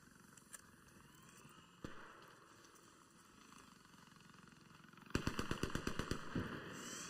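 Rapid automatic gunfire in a shooter video game comes in as a fast burst of sharp cracks near the end, after a few isolated shots and a steady low engine-like hum in a quiet background.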